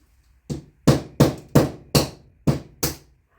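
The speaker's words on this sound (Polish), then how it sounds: "Czasem jestem leniwy i wolę sobie młotkiem porozbijać." Seven hard hammer blows on metal parts of a dismantled electric planer, evenly paced, each a sharp clanging impact with short ringing decay.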